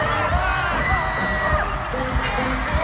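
A concert crowd screams and cheers continuously at a live performance, with dense high-pitched shrieks and whoops layered over loud, booming music.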